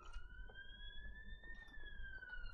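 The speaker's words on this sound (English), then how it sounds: "Go away, you bloody siren." A wailing alarm siren sounds aboard a ship in Mass Effect 2, one steady rising tone that bends slightly downward, moderately loud over faint background game noise.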